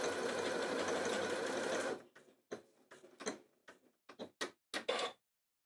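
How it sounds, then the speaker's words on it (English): A Janome Atelier 9 sewing machine stitches a lock stitch sequence: a steady whirring run of needle action, then a series of short irregular clicks and ticks as it finishes and stops, close and clear with no talking. "because we've got the lock stitch, it's just going to sew that sequence once before it stops"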